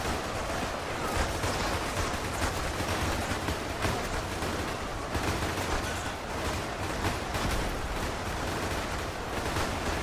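Relentless massed gunfire from Warhammer 40k renegade gunners in Ultimate Epic Battle Simulator 2, cutting down Imperial conscripts on a beach; a dense, unbroken roar of overlapping shots fills the whole stretch at steady loudness.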